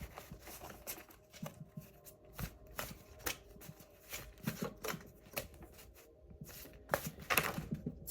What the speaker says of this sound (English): Tell me if you guys like when people shuffle on camera.